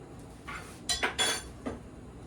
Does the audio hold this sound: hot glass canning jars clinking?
yes